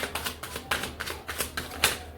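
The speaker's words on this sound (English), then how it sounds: "I'm going to shuffle it one more time." An oracle card deck being shuffled by hand, giving a rapid series of soft, crisp card riffles and flicks in short bursts, close and fairly quiet, with no talking.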